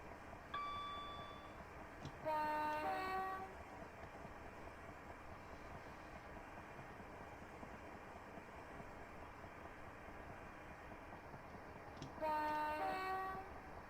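A Southeastern train running from Tonbridge to Strood sounds its horn twice at closely spaced whistle boards, each a clear two-tone blast a few seconds long, heard over a quiet rumbling cab interior.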